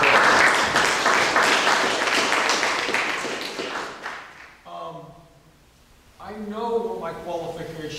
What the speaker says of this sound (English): So please give yourself a applause.